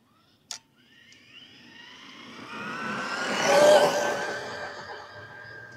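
A Traxxas Stampede BL-2S radio-controlled car with VXL upgrade climbs a hill outdoors, its electric motor whine swelling as it approaches and then fading away, after a single sharp tap at the start.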